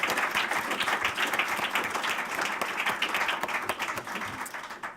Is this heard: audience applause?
yes